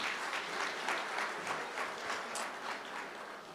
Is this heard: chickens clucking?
no